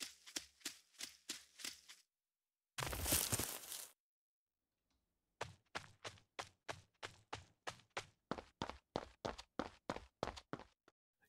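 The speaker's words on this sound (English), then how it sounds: "a play footstep event is cast whenever Ellen puts her foot on the ground" Game-character footsteps from a Wwise and Unity demo, a steady run of evenly spaced crisp steps, then a brief noisy rush and a pause, then another quick regular series of steps, close and clean with no talking.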